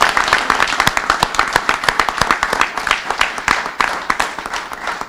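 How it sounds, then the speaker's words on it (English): A crowd claps for veterans at a bill-signing ceremony, a dense and steady burst of applause that carries on for several seconds, close and loud. "let's give them a round of applause for their service"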